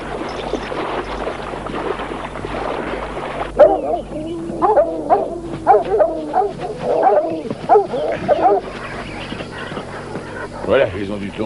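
Dogs bark in excited bursts near a river ford, starting partway through and repeating irregularly up close. People talk and sounds move around them.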